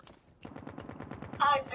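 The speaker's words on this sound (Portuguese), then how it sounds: "Eu atiro nesse cara, esse cara não morre." Automatic gunfire in the mobile game Call of Duty Mobile, a rapid, evenly spaced burst of shots that swells louder near the end, with a voice mixed in.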